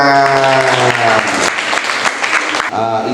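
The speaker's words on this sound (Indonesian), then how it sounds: "Rasulu, tepuk tangan." Audience clapping at an end-of-year celebration at an Islamic girls' boarding school, close and loud, mixed with voices and tones.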